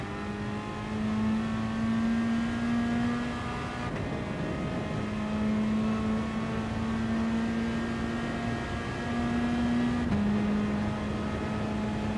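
The Peugeot RCZ race car in GT Sport roars at full throttle, its engine note climbing steadily through the gears with brief dips at each shift, loud and sustained throughout.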